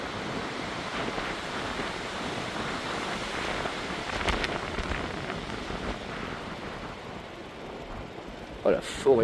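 A strong storm wind blows in a steady, dense roar with gusts swelling and easing, loud and enveloping, alone apart from a brief knock near the end.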